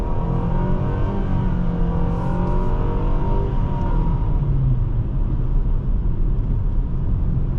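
A 2023 Nissan Sentra SR's engine pulls steadily under acceleration on a test drive, a loud, continuous interior drone with rising tonal harmonics over a constant road rumble, no voices.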